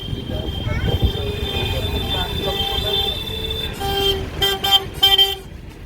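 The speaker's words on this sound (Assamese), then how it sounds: "ইমান যে হৰ্ণ মাৰি থাকে ইয়াতে" Car horns honk repeatedly in busy street traffic near Swargadwar market in Puri, short bursts clustering near the end, with people talking and engine noise underneath.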